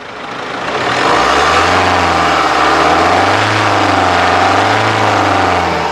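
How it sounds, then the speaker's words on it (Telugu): A 2016 Mahindra XUV500 W10 engine runs steadily, a loud, close, even hum that swells slightly in the first second and then holds a constant idle drone, with no talking. "ఇంజన్ యొక్క నాయిస్ చాలా అంటే చాలా సైలెంట్గా ఉందండి"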